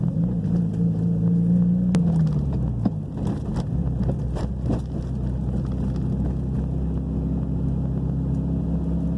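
Mitsubishi Lancer Evo X engine while driving, a steady low rumble from inside the car with a brief rising whoosh and a sharp click near the start.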